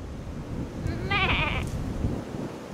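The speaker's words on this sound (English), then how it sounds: "we spot this wild goat eating a cycad" A wild goat on an Okinawa island gives a single short bleat midway, heard against steady outdoor wind or rumble, moderately close and alone.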